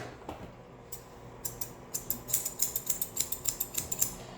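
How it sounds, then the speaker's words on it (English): Grooming scissors trim a Shih Tzu's hair from under the jaw up toward the ear, starting with a few scattered snips and then settling into a quick, steady run of crisp close-up clicks with no talking. "anything from here, underneath the jaw, all the way up to the ear, I'm gonna scissor"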